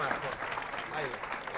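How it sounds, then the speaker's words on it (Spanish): Spectators at a line-following robot racing competition give a brief burst of applause, a moderate, even patter of many hands blended with crowd murmur and voices. "un fuerte aplauso"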